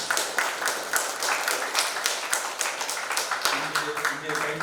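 An audience at a motivational session claps in a lively, rhythmic patter of many hands, heard close and fairly soft alongside a speaking voice.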